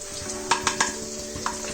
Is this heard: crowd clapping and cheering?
no